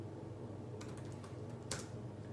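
A board name being typed on a computer keyboard, a few quick, faint key clicks in short bursts over a low background hum.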